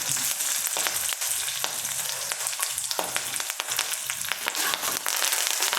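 Urad dal, chana dal, dried red chillies and curry leaves crackle and sizzle in hot oil, a dense, steady frying hiss with sharp popping bursts scattered throughout, close and fairly loud with no talking.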